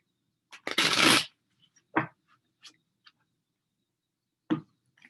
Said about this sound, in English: And one more shuffle, Virgo.